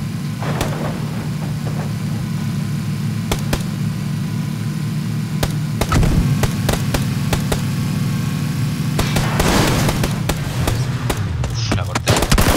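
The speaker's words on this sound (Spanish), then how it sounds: "Se nota que está disparando." Gunfire in PUBG crackles as sharp, scattered shots, some single and some in quick clusters, over a constant droning vehicle engine in a battle royale match.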